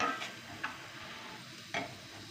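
Oats cooking in a pot on the stove, with a soft steady bubbling hiss and a few brief spoon scrapes as it is stirred, close and quiet.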